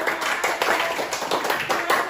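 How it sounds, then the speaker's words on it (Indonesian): A class of schoolchildren claps steadily for their classmates, a dense rhythmic patter of hands filling the whole stretch at moderate, close range. "Tepuk tangan untuk"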